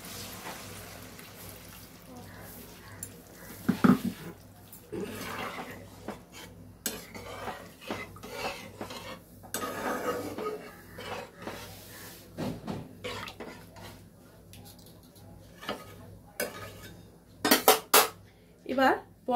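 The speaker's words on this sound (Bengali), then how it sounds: "এবার আমি খানিকটা জল এই পাত্রটাকে ধুয়ে, মিক্সির জারটাকে ধুয়ে আমি এতে ঢেলে দিচ্ছি।" A bowl and a mixer jar are rinsed and the water is poured into a cooking pot, with clinks and knocks of utensils and splashing water in an intermittent sequence, louder clatters near the end.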